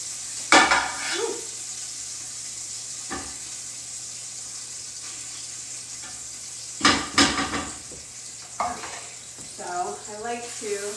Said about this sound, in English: Once we get a good saute on this. Saute it for a couple minutes